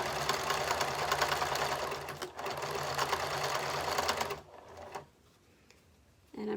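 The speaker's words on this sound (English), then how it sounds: "when you start sewing the mask material, make sure that you are sewing through both layers" A sewing machine stitches through both layers of a fabric face mask, running as a loud, fast, steady whir for about four seconds before stopping into near quiet.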